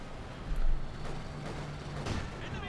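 Scattered gunfire from infantry and support weapons in the World War II strategy game Company of Heroes 2, a few sharp shots and thuds over a dense battlefield rumble, with a commentator's voice faintly underneath.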